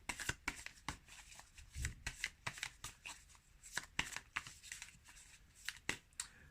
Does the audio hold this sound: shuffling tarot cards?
yes